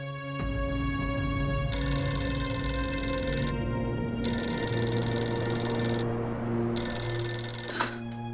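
A telephone bell rings in three long bursts with short gaps between them, clear and prominent over a steady background of music, with no one talking.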